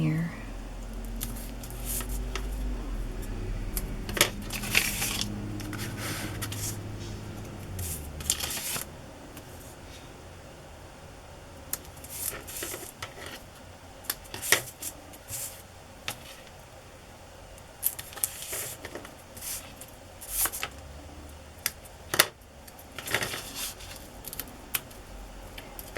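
Red tape pressed and smoothed onto a journal's spine for reinforcement, with sharp crinkles, taps and rubbing bursts scattered across the clip, close up, following an opening stretch of low rumble with a voice speaking.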